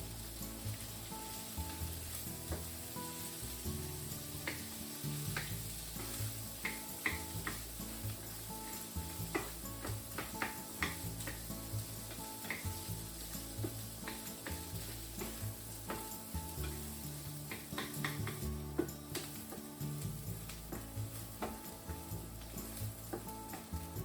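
Corn kernels cook in melted butter in a pan, a continuous soft sizzle broken by regular scraping strokes as they are stirred, with no talk.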